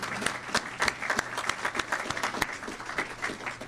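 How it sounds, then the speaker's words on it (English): Applause from a Florida audience at a DeSantis legislation event, a steady patter of many hands with sharper individual claps standing out, moderately loud and continuous for a few seconds with faint murmuring underneath. "Y'all can clap for that one."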